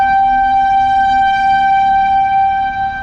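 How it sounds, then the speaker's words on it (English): A loud, sustained tornado siren near a campsite holds steady and unbroken for the whole stretch, droning evenly with no pauses. "The tornado siren's right over here."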